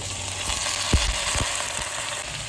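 Brinjal frying with onions in a pan on a South Indian home stove gives off a steady, close sizzle, broken by a couple of soft low thumps as the pieces are dropped in or stirred.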